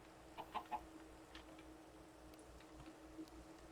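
A chicken gives a few short clucks close by, a quick cluster of three near the start followed by fainter scattered calls over a steady low background hum.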